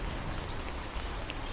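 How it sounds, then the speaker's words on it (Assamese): Steady rain falls hard over a yard where water has pooled among tomato plants, a dense, even hiss with scattered drops pattering close by and no voices. "পূৰা জোৰছে বৰষুণ দি আছে"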